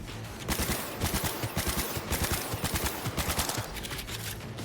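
Rapid automatic gunfire in the GTA role-play game NoPixel, dense bursts of shots rattling in quick succession, loud and close, with no talk.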